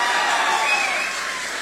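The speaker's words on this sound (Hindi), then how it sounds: "अभिमन्यु के लिए तालियां बजनी चाहिए।" An audience on a stage event applauds and cheers, a continuous wash of crowd clapping and noise at strong, even loudness.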